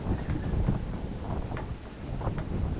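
Wind buffets the microphone in a constant low rumble aboard a sailboat on the Norfolk Broads, with faint creaks and water sounds underneath, no voices.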